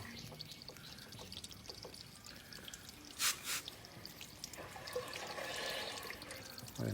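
Water trickles and drips as an automatic drinker for chickens refills, a soft running flow with a couple of brief splashy drips and a faint background hum.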